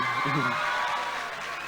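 Audience at a youth conclave in Kathmandu applauding and cheering after a speaker finishes, a broad steady wash of clapping with a few whoops near the start, fairly loud and sustained throughout.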